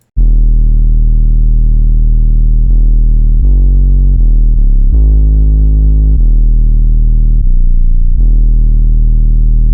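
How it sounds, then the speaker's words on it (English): A loud, gritty sub bass synth tone sustains throughout, shifting pitch in a rhythmic pattern with buzzy harmonics and no voices. "It's a pretty dirty sounding sub."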